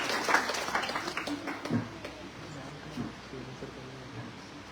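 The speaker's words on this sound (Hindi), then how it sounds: "जोरदार तालियों के साथ स्वागत करें हमारे अगले प्रतिभागी को" An audience at a school poetry recitation competition claps to welcome the next student participant, scattered applause that is strongest at first and then thins and fades, with faint voices underneath.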